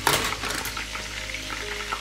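Garlic frying in a pan, a bright continuous sizzle heard up close with a few faint clinks and stirring noises, no voices.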